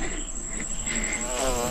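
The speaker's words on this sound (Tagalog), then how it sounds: "May bubuyog. Kanina pa ako sinusundan." A persistent insect buzz hovers near a camper on a rocky limestone cave trail, a steady whine at moderate loudness over outdoor ambience.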